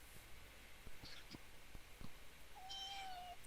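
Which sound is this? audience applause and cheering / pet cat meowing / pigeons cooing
pet cat meowing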